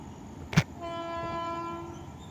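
A Garib Rath express hauled by a WAP-7 electric locomotive sounds a short sharp horn blast as it departs, followed by a steady tonal hum over a low rumble, at moderate distance.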